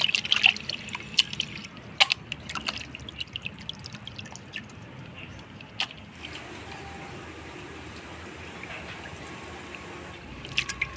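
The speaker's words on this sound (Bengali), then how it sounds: "মাংসটা আমি পরিষ্কার করে ধুয়ে নিলাম" Water dripping and trickling while goat meat is washed, with scattered close splashes and drips over a steady faint running-water hiss.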